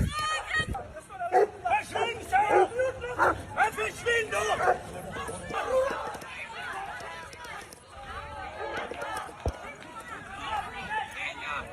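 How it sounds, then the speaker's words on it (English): Attack dogs bark and yip loudly and repeatedly, brought in to deal with pro-Palestinian protesters, with shouting crowd voices and commotion throughout. "Swedish bring in attack dogs to deal with pro-Palestinian protesters."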